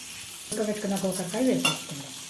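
Boiled cluster beans are tipped into a pan with garlic and stirred, giving a close, soft sizzle of frying under scraping spoon strokes, with no one speaking.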